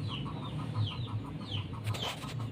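Clucking from an Aseel rooster of the fighting breed, a run of short repeated calls close by over low farmyard background noise, without anyone talking.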